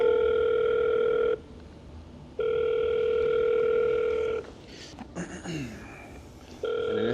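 Telephone ringback tone on an outgoing cold call to a business: two long steady buzzing rings separated by a pause, then brief movement sounds, and a third ring starting at the end.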